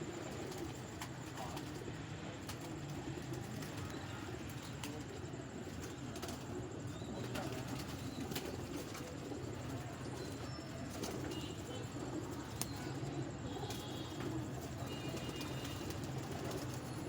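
Pigeons coo in a large rooftop flock kept by a breeder, a steady low murmur of overlapping calls that runs throughout alongside outdoor background noise.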